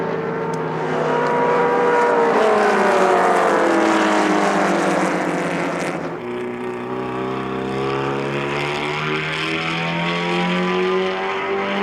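Race cars at the Sonoma Speed Festival circuit roar past with loud, sustained engine notes that rise and fall in pitch, one car giving way to another midway, and no talking.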